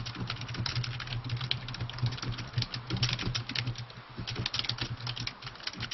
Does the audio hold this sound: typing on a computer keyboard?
yes